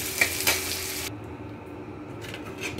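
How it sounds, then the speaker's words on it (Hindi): Cumin and onion fry in hot oil with a loud, close sizzle and a couple of quick stirring scrapes, the hiss dropping away midway before flaring up again at the end. "मैं इसमें डाल रही हूँ जीरा और जो मैंने प्याज लिया था वो डाल रही हूँ और इसको अच्छी तरह ब्राउन होने तक भूनती रहूँगी।"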